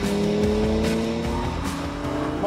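Mid-size SUVs launch together at the start of a race, engines droning loud and steady with a thin high tone suggesting tire squeal, no voices present.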